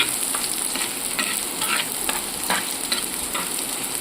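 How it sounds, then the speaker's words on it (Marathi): Onion frying in oil for egg bhurji makes a loud, close, crackling sizzle, with repeated stirring scrapes at an uneven rhythm and no voices. "कांदा पण असा तेला चांगला भाजायला लागलेला आहे"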